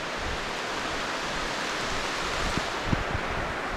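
Heavy rain pours steadily on a forest trail, a dense, even wash of noise that fills the whole clip, with a couple of faint brief knocks near the end.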